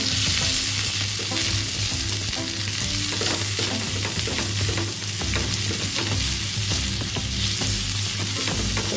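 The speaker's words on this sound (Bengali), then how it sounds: "এটা এইভাবে একটু হাই ফ্লেমে সটে করে নিলাম" Onion and capsicum sauté in a pan over a high flame, making a loud, dense, continuous sizzle with constant rapid stirring and scraping, close and without talk.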